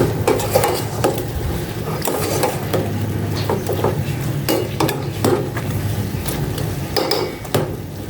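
Cooking oil heats in a pan on the stove, giving off a steady frying sizzle. Scattered utensil scrapes and clinks are heard against the pan throughout.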